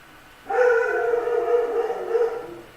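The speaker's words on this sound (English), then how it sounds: "He barks. Dog barking." A dog lets out a single long, drawn-out howl, steady and tonal, lasting a couple of seconds after a brief quiet start.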